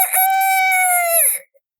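A person imitates a rooster's cock-a-doodle-doo, one long loud crow with a strong pitched tone held for over a second and then trailing off, alone with no talk.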